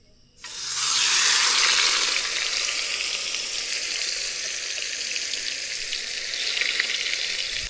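Food hits a non-stick pan with a little oil at a pine forest campsite and starts to sizzle loudly. The hiss holds steady and close for several seconds with faint stirring and no talk.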